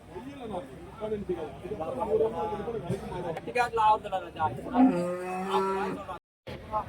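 Cattle moo loudly nearby at a cattle market in Orappam, Krishnagiri, one long low call rising at the end, while several people talk in the background.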